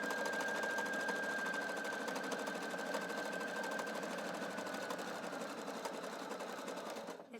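A Husqvarna Viking Sapphire 930 sewing machine runs a steady, continuous whir as it stitches a crisscross buttonhole on knit fabric, close and even throughout with a faint high tone, winding down at the very end.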